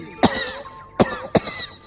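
Three sharp, close coughs ring out alone, one early and a pair near the end, each a short harsh burst separated by quiet pauses.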